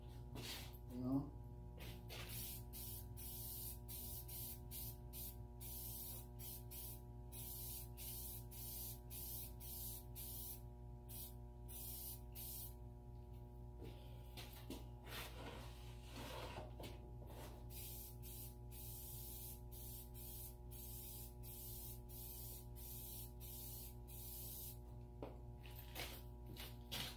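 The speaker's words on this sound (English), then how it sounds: "I got a couple so I can paint the frame and everything." An aerosol can sprays paint onto a frame in a series of short and longer hissing bursts separated by gaps, close and fairly loud over a steady low background hum.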